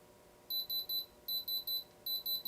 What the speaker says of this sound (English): So if it beeps, then that means it is moissanite.